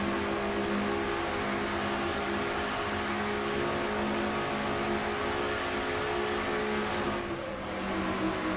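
The number 90 Ford race car in a racing sim roars at full throttle on the Brickyard 400 oval, a steady loud engine drone held flat out with no break.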